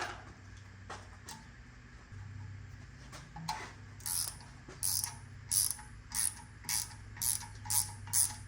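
A ratchet wrench turns a 10 mm bolt on a Karl Kustoms 302-1 oil pan. Quiet tool handling comes first, then a run of sharp, regular ratchet clicks in quick bursts, close by.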